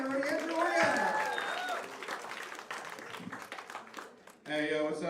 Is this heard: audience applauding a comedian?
yes